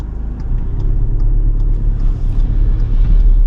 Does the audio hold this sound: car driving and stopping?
yes